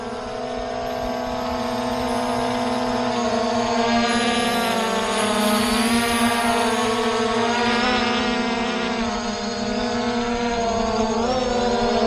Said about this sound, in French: je vais donc armer les moteurs et faire un décollage automatique.